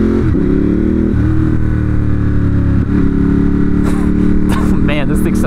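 A 2018 Ducati Monster 1200 S liquid-cooled engine rumbles loud and close, its idle swelling into revs that rise and fall, with brief clatter near the end.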